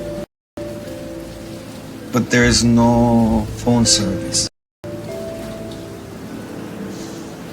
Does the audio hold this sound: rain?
yes